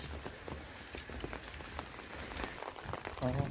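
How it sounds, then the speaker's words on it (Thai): Steady rain pattering outdoors on a rainy day, a dense, continuous wash of drops with scattered sharper splashes, fairly close and unbroken throughout. "ก็ฝนตกพี่น้องเลย"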